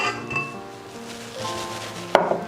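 Soft butter dropped into a bowl for shortbread cookie dough, with faint clinks and scrapes of a utensil against the dish and a sharper knock near the end, close and moderately quiet.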